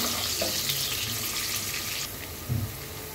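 Onions frying for chicken khichuri make a short burst of bright, hissing sizzle that drops slightly in level partway through, with a soft thump near the end.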